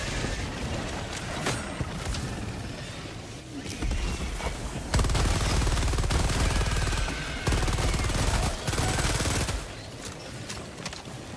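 Weapon fire in Helldivers 2, a video game, with dense bursts of shooting and heavy blasts rolling across the whole stretch, loud and sustained with brief lulls.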